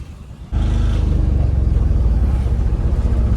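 A vehicle rolls slowly downhill through a crowded village stretch on an unfinished road, its engine a steady low rumble that is quieter for the first half second, then becomes loud and close and holds constant.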